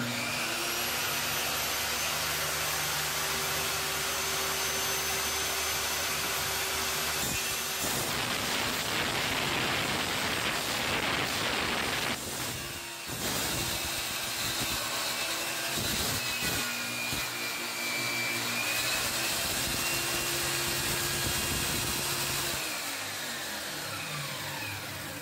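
A table saw runs steadily in a woodworking shop, its blade passing through wood on a sliding crosscut table built for 90-degree cuts with a repeat stop; the motor hums loudly throughout, with a denser cutting noise partway through.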